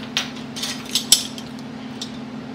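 Metal measuring spoon scraped level while baking strawberry shortcake, a few light clinks and scrapes over a steady low hum, close and quiet.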